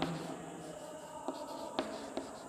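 A pen scratches across paper in short strokes while a math proportion problem is written out, quiet and close with a few sharper taps, no talking over it.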